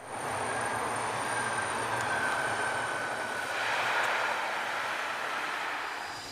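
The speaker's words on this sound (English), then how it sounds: "Here, an LC-130 crew is practicing landing and taking off from a manufactured" An LC-130 aircraft on retractable skis practices landings and takeoffs from a manufactured runway in Scotia, New York. Its engines give a steady, distant droning roar that swells briefly and then eases, with no voices.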